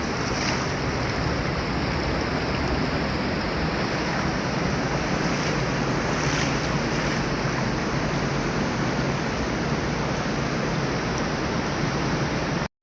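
Steady, loud rush of water pouring down cascades, a dense continuous roar with no pauses or voices throughout, cutting off abruptly at the very end.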